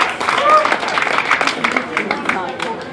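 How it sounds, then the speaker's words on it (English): A brief burst of clapping from a small group, dense at first then thinning out, with voices talking over it. "Chris, give Chris a big round of applause since it's not you."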